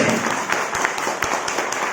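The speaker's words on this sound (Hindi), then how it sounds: "जोर से ताली बजाओ, जोर से।" A church congregation claps loudly during a Baptist service, a dense, steady wash of many hands close by with no pauses.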